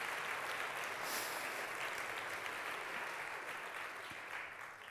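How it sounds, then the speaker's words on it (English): A church congregation gives a round of applause during a Mother's Day service, with sustained, fairly even clapping from many people in a large room that fades a little at the end. "Would you give our blokes a round of applause this morning?"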